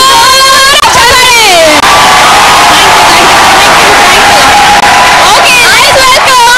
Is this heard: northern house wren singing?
no